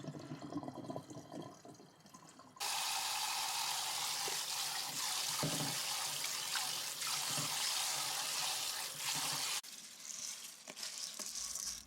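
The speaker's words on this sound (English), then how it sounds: "Scrub and pour out the milky water and get new water, and rinse, scrub, and drain a few good times until the water runs pretty clear." Water pours in a steady, close rush for several seconds while rice is rinsed and drained for homemade makgeolli, with quieter handling sounds before and after.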